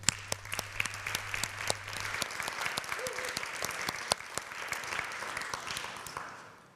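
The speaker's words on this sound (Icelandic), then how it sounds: "Kitty, gefum henni gott klapp." A church congregation applauds during a service, a dense run of scattered claps lasting several seconds at moderate volume, with a low hum fading out early on.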